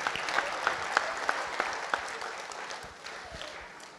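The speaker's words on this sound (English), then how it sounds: "let's give them one more round of applause" Audience applause after an evening stage show performed by children: a full, steady round of clapping with a few sharper accented claps early on, gradually thinning and softening toward the end.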